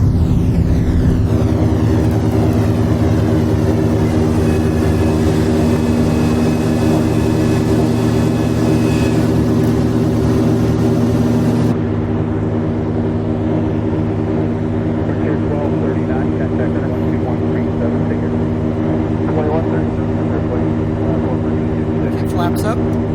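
Twin piston engines of a Tecnam P2006T in a flight simulator drone steadily at climb power after takeoff, a loud continuous hum with layered low harmonics that holds level, with a slight drop in texture partway through.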